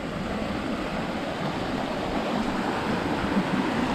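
Steady rushing of water pouring down a rock slide in a gorge, a continuous broadband splash with no pauses, fairly close and unbroken for the whole stretch.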